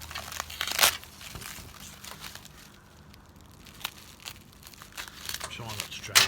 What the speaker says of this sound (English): let's see if I can cut these apart nice and quickly